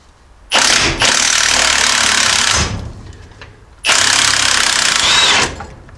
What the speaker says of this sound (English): Might just throw an impact on this.